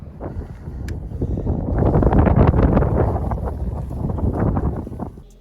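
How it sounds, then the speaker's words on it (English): Strong, freezing outdoor wind buffets the microphone in continuous loud, low roaring gusts that swell through the middle and ease near the end, with no talking. "As you can hear, the wind was really strong and freezing"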